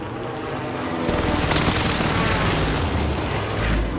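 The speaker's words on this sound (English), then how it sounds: "Allied precision airstrike incoming." Allied precision airstrike explosions in Warzone rumble loud and dense, a sustained wash of booms and crackling blasts that swells after the first second and rolls on steadily without speech.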